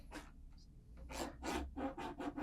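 A CNC router bit turned slowly by hand grazes a fresh spoilboard on a FoxAlien XE-Pro, giving a series of close, dry rasping scrapes in short uneven bursts, with no one speaking.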